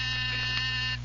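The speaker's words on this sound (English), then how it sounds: "That was again the door buzzer." A door buzzer gives one sustained, harsh electric buzz lasting about a second, loud and close, with no voices over it.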